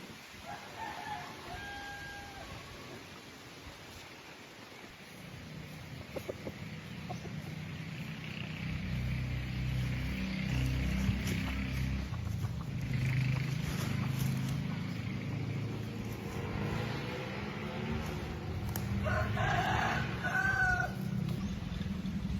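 Chickens cluck quietly over a low rumbling background, and a rooster crows clearly near the end.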